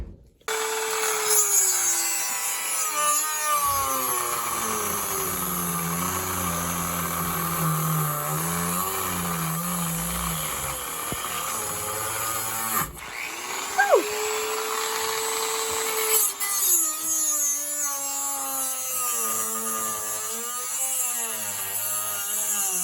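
A tool cuts out the bed of a pinewood derby race truck carved from wood, giving a steady, close whining and grinding whose pitch shifts as the cut moves, running nearly continuously with a couple of brief breaks.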